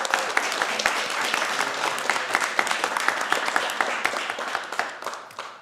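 A round of applause at a school board of trustees meeting: a small room of people clapping steadily for several seconds, crisp individual claps audible within the wash, tapering at the end.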